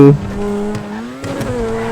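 A BMW M4 engine in GTA 5 whines at high revs with a sustained rising pitch, tires squealing briefly near the start and again partway through.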